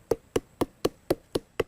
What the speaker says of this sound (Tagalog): Para mas mabilis na lumabas ang katas, pinupukpok niya ang parteng ito ng puno